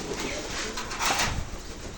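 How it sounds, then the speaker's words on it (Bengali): Pigeons coo softly nearby, a low continuous murmur of several birds as they are let out of their coop, with faint rustling underneath. "দেখুন সবগুলো কবুতরকে বের করি"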